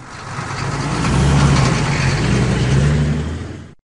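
Toy trucks rumble in a Curious George video game, a truck engine revving and approaching, swelling louder then holding steady before cutting off abruptly, heard alone without talk.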